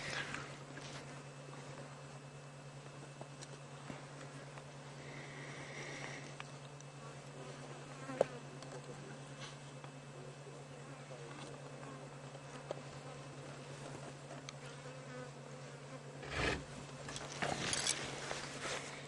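Flies buzz around a buffalo carcass on a safari drive, a faint, steady insect drone that lasts throughout, with a few light knocks and rustles and a brief louder thump near the end.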